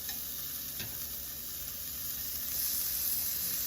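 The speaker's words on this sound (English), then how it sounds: "We're going to sear them up for a few minutes on this side" Steaks searing in a hot pan: a soft, steady sizzle and hiss of fat with faint ticking, quiet and close, growing slightly louder near the end, with no talking.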